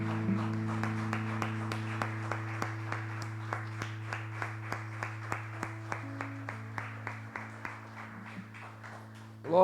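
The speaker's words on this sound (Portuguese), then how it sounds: "Aplauda o nome do Senhor." A church congregation claps during a worship service, steady rhythmic hand claps keeping time over a sustained organ-like drone, fairly distant and soft.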